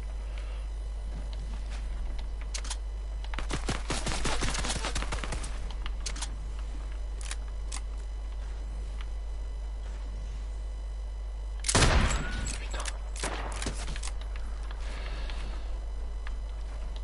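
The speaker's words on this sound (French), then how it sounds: "c'est tiré d'en face et derrière" Fortnite gunfire crackling in rapid bursts from several directions, a sustained volley around four seconds and a sharper, louder close burst near twelve seconds, with scattered single shots between over a steady low hum.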